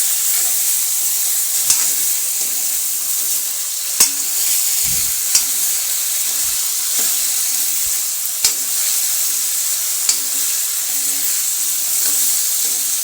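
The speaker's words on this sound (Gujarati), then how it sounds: "તો હવે આપણે તેને સારી રીતે હલાવી લઈશું અને મિક્સ કરી લઈશું તેલમાં" Potatoes fry in oil in a pan with a steady sizzle, punctuated every couple of seconds by sharp clicks and scrapes of a spoon stirring them, close up.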